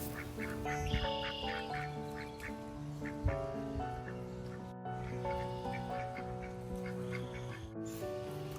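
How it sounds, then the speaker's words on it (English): Several ducks quack repeatedly by a farm fence near a barn, a steady run of nasal calls mixed with a few honking notes, fairly close and continuous with no talk. "they're hanging out by the fence and quacking at her while she's in the barn"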